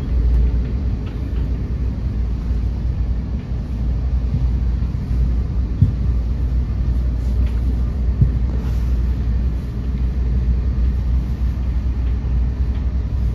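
A Thameslink train runs through the Gasworks tunnel, a steady low rumble and hum heard from inside the carriage with faint clicks and knocks from the track, continuous and even with no talking.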